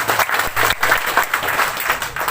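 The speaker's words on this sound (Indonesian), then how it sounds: "Sekali lagi kita tepuk tangan buat Mama Ratu." An audience applauds Mama Ratu at a COVID-19 vaccination outreach event in West Sumba, a short burst of steady clapping at moderate level.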